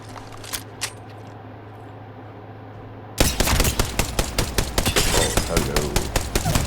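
Rampage light machine gun firing in Apex Legends, a loud sustained burst of rapid shots with a steady thudding rhythm, beginning abruptly after a few quiet seconds of low hum and faint clicks.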